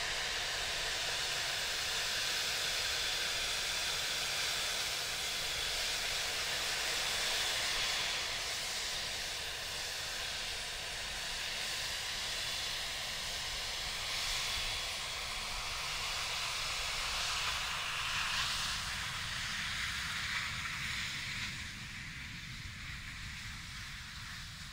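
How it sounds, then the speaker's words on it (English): A Lilium electric jet landing from about 150 down to 100 meters overhead: a steady broadband whooshing hiss with a faint high whine, continuous and moderately distant, fading slightly near the end, no talk. "take a listen to Lilium jet during landing at 150 meters to 100 meters"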